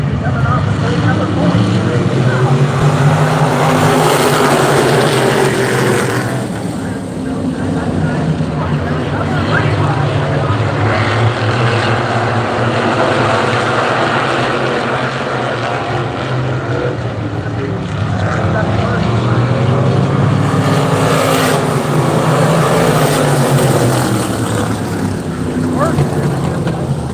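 Supermodified sprint cars of a 350 outlaw series racing at Sandusky Speedway, engines droning loud and steady with rising and falling sweeps as cars pass, mixed with wind and crowd noise throughout.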